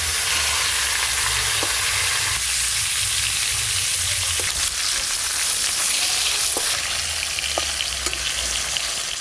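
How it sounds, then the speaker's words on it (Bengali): Fish frying in hot oil in a home kitchen, a steady loud sizzle with crackling and spattering that runs unbroken throughout, no voices over it. "এই মাছগুলো ভালো করে ভাজা হয়ে গেল"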